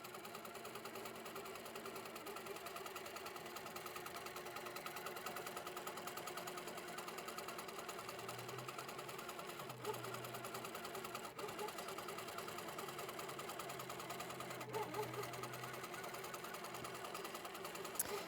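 An HQ quilting machine run by a Pro-Stitcher Classic system stitches fabric with a steady, continuous mechanical whir and rapid needle chatter, sustained evenly throughout at moderate distance.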